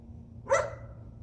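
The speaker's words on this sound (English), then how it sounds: "She's barking at me because she finally realized I'm out here and talking." A female dog lets out a single sharp bark at moderate distance, clear against a quiet background hum.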